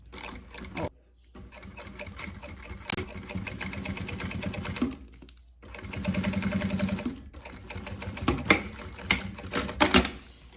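Sewing machine topstitching a pencil case seam in synthetic material, a close buzzing stitch run in several bursts with brief pauses between them, with no talk.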